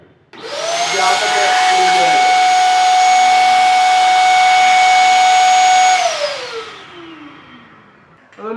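A paint spray gun nozzle blows a loud, steady hiss of air with a high whining tone for about five seconds. The whine then winds down and fades as the motor stops.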